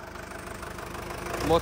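A 1987 Ford F-1000 turbo pickup engine idles in a low, even rumble close by, with a brief louder surge near the end.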